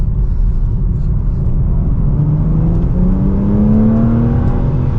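2025 BMW M4 engine revving while driving, a loud steady rumble with a rising engine tone climbing over several seconds amid road and cabin noise.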